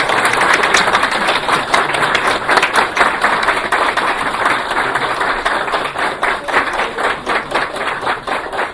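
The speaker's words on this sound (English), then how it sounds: "Please welcome with applause." A large audience applauds at an honorary doctorate conferment ceremony held by a Japanese international university, a loud, sustained crowd of clapping hands that gradually thins and softens toward the end.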